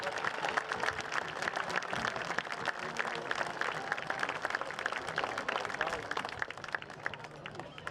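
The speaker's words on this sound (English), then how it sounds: "let's give a rousing Spud round of applause to the memory of our friend Pebbles." A football stadium crowd applauds before a high school game between Moorhead and Brainerd, with distant, scattered clapping and crowd murmur across the whole stretch at a fairly low level.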